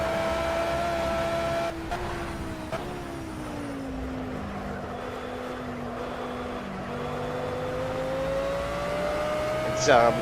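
Car engine driving in the video game S.T.A.L.K.E.R. 2, a steady droning motor whose pitch slowly sags and then climbs again over several seconds, with a faint clunk and a brief scrape near the end.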